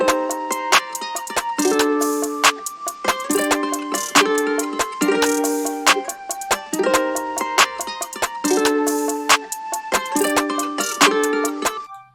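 A trap beat with a flute and ukulele-style guitar melody plays loud and alone, with repeating plucked and breathy phrases over crisp, fast hi-hat ticks and steady percussive hits.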